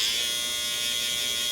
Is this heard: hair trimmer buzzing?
yes